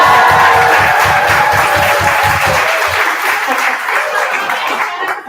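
A crowd at a university club event (ESW RIT) bursts into loud applause and cheering on cue, dense clapping that stays steady and close before thinning slightly toward the end.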